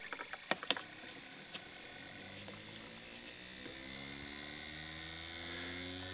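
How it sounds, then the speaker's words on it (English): A small electric motor runs for a Lenz's law demonstration, giving a steady whirring hum with tones that slide and shift, preceded by a few light clicks near the start. "Okay, the motor is running."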